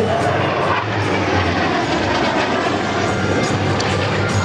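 A Hawker Hunter jet thunders past at the Ferté-Alais air show in 2014, a loud, continuous engine roar with a broad rushing hiss that fills the scene without a break.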